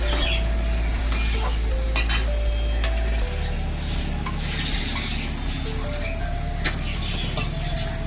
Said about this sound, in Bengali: মশলাটাকে একটু কষিয়ে নেব একটু ঢাকা দিয়ে কষিয়ে নেব